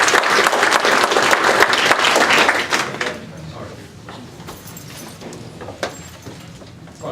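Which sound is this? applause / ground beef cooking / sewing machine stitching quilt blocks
applause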